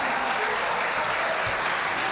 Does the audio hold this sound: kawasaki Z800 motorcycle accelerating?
no